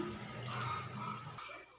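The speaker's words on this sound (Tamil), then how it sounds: "அப்படியே கொஞ்சம் நீ தண்ணி ஊற்றிட்டு நல்லா பிசைஞ்சிக்கலாம்" Water is poured onto cooked rice and worked in by hand, a soft, low liquid splashing and squelching that runs steadily, then thins toward the end.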